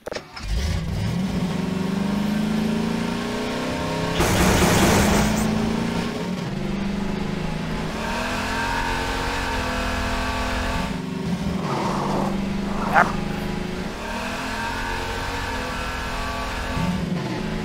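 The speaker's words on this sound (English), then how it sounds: "This engine sounds great," A car engine in a VR video game drones and revs in a steady, loud hum, rising and falling in pitch as it accelerates, with a brief whooshing burst and a sharp click partway through.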